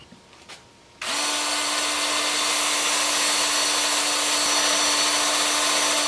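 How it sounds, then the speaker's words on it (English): Power sander working a mulberry live edge wooden bowl starts abruptly after a few faint knocks, then holds a loud, steady, close whine with a constant humming tone. "So I'll take this over to the workbench and sand it up."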